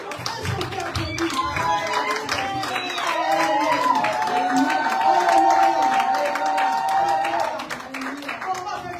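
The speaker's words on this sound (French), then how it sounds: "Est-ce qu'on peut applaudir?" A church congregation claps together in sustained applause that swells and holds for several seconds, mixed with cheering and a voice speaking over it, then fades.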